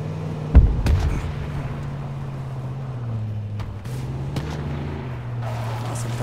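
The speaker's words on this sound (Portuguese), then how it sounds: "Nossa, ele tá longeão atirando em mim." Distant gunfire in the battle royale game H1Z1 King of the Kill: a few scattered, muffled shots and booms at far range over a steady low rumbling background.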